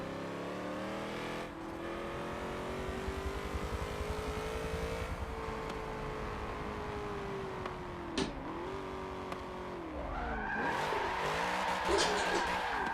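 Drift car engine in a racing video game revving hard and bouncing repeatedly off the rev limiter, a loud continuous buzzing drone with tire squeal and a sharp shift near the end.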